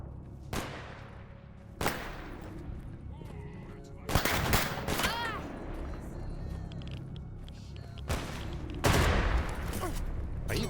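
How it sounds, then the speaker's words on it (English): Bandits firing at the player in S.T.A.L.K.E.R. Anomaly GAMMA: several loud bursts of gunfire crack out in uneven volleys, some close and sharp, others further off, with a steady low ambient rumble between shots. "That's definitely the sound of bandits being unhappy with me, but not quite landing their shots"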